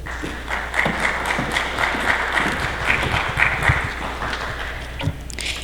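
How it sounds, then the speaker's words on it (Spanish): An audience at an academic law lecture gives a round of applause: dense, fairly loud clapping with scattered sharper claps that carries on steadily before thinning out near the end. "Recibimos con un fuerte voto de aplausos a la doctora Bartolo Guamán."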